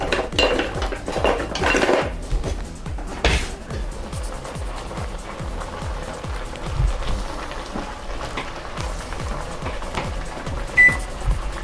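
A metal spoon scrapes and clanks against a pot of collard greens, giving repeated busy stirring and knocking sounds, fairly close, with no one speaking.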